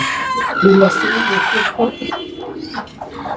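Broody hens cluck close by in short, repeated bursts, while a voice is also heard.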